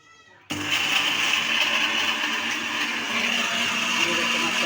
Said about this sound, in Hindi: इनको हम ग्राइंड कर लेंगे